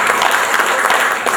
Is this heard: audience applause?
yes